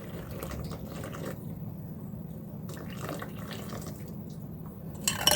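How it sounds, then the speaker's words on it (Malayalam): Hot melted jaggery is poured through a strainer into a mixing bowl while making kumpil appam, giving a steady, soft liquid trickle with no talking. "ഇനി ഉരുക്കിയ ശർക്കര ഇതിലേക്ക് അരിച്ചൊഴിക്കുക."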